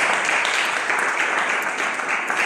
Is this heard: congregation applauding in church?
yes